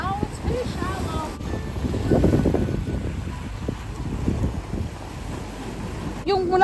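Sea waves wash along a shore near Mayan ruins in Mexico, a soft surf mixed with wind buffeting the microphone, while people talk over it.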